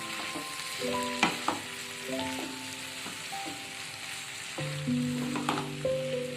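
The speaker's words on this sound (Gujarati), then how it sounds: "હવે આ બધી વસ્તુ સરસ રીતે હલાવી લઈશું" Sweet potato sukhi bhaji with lemon juice being stirred in a pan, giving a steady soft sizzle with scattered scraping strokes and a few sharper knocks, while steady tones run through the background.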